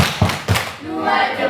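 A group claps along in a rhythmic hand-clapping routine at a school gathering, two sharp claps in quick succession followed by voices chanting.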